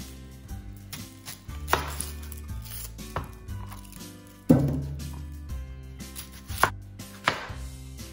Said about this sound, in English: let's chop the garlic so it's fine pieces. Remember to smash it and then chop it.